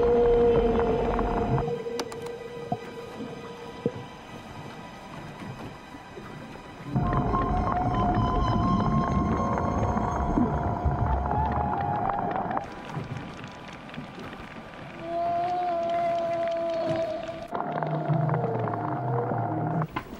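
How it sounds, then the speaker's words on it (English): Underwater whale vocalizations: long, tonal moans and eerie drawn-out calls that shift pitch over a constant rushing water wash, loud and close, with no voices. "It's definitely a whale."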